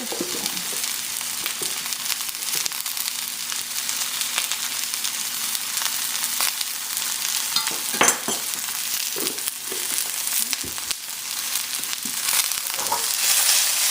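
Beef stir fry sautéing on high heat with orange and ginger sauce, cornstarch added, a steady broadband sizzle throughout with scattered clinks and stirring scrapes, close and loud, no talking.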